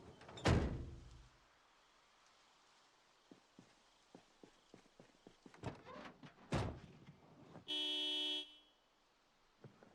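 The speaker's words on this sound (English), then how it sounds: "I guess I honk now?" A car horn in the Project Zomboid survival game sounds as a single steady honk of about one second near the end, after a loud door thunk and a series of small clicks and knocks.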